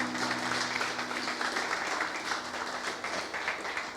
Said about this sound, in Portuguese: Você pode dar um aplauso ao Senhor nesse momento?